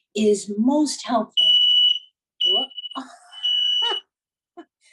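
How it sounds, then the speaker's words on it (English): A fire alarm going off in a house sounds as a series of shrill, steady electronic beeps, each lasting about half a second, repeating between bursts of nearby conversation. "That's the fire alarm at Noreen's house."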